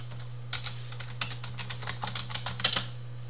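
Rapid clicking keystrokes on a computer keyboard as a password is entered, a close, uneven run of light taps over a faint steady hum.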